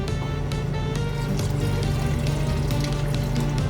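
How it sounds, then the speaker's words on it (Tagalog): Water pours steadily into a pot of beef stew (nilagang baka), a continuous splashing trickle under a low background hum, with no talking. "Ayan, lagyan natin ng tubig."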